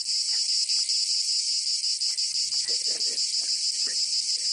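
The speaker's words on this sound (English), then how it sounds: "Yes, of course cicadas." Cicadas drone in a loud, continuous, shimmering buzz that stays steady and close throughout, with faint rustling and low knocks underneath.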